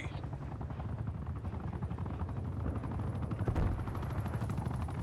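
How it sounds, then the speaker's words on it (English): Enemy attack helicopter overhead in Call of Duty Cold War multiplayer, a steady loud rotor drone throughout with bursts of gunfire mixed in. "Enemy attack helo above."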